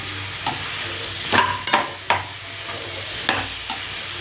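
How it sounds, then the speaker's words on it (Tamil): Eggplant curry (kuzhambu) cooking in oil in a pan, with a steady low sizzle and bubbling broken by several sharp clinks and scrapes of stirring, close and moderately loud, no voices. "எண்ணெய் கத்திரிக்காய் குழம்பு நல்லா கொதிச்சிட்ருக்கு"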